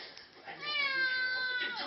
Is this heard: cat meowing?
yes